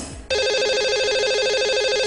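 A telephone rings as a Hindi TV show dials a lucky caller: after a brief quiet moment, a loud, close electronic ringtone starts and warbles steadily without pause, with no voices over it.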